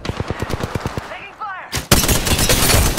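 Rapid automatic gunfire in a first-person shooter game, starting as a quick evenly spaced burst of close shots, then a short pause with whooshing effects, then a loud sustained barrage of fire.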